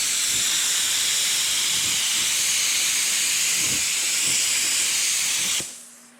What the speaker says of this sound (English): I'm spraying this with I'm spraying it with extremely